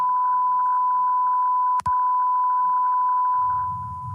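A loud continuous censor bleep tone holds steady, briefly cut once, with faint low murmuring underneath and a rising rumble near the end.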